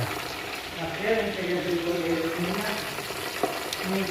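Doughnut dough frying in oil in a pot, a soft bubbling sizzle heard close, with a voice talking over it.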